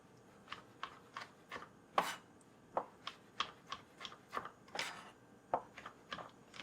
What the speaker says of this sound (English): Just chop them up, rough chop.